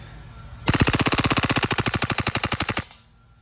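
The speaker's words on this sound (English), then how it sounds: "So from semi to full auto and see how many full mags this guy can take on a single mag fill of gas" A GHM9G gas-powered airsoft pistol fires one loud, rapid full-auto burst of roughly thirty evenly spaced shots lasting about two seconds, then stops abruptly, with no talk over it.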